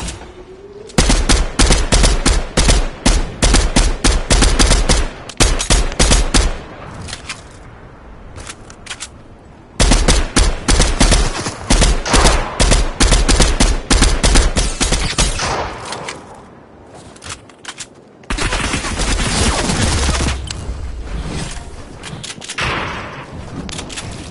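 Sustained automatic gunfire in a PS4 video game rattles in long, loud, close bursts with brief pauses between volleys.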